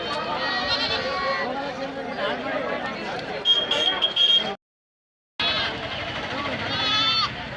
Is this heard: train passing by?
no